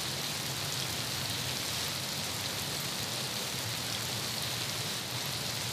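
Steady heavy rain falls outdoors at night, a dense even hiss of drops on surfaces that continues without pause for the whole stretch.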